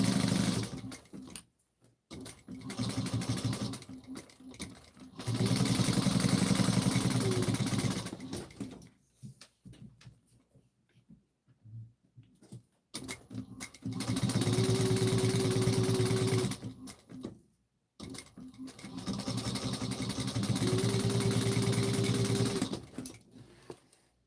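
A sewing machine top stitching at an eighth of an inch runs in several bursts of rapid steady stitching, separated by quiet pauses and fabric handling, heard close with no talking.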